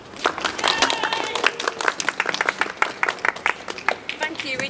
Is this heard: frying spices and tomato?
no